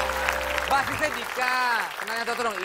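Audience applauds a band introduced on an Indonesian talk show, broadband clapping running steadily throughout under someone speaking loudly over it.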